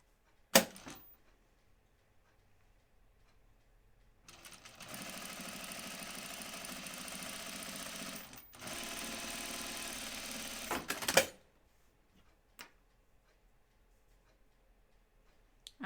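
A sewing machine runs a line of stitches on a V-neck top, starting with a click, then two steady mechanical whirring runs of about four and three seconds with a brief pause between them, followed by a few faint clicks.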